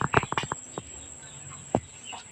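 Backyard chickens let out a few short clucks in a quick cluster near the start, then a single cluck later, fairly close against a quiet outdoor background.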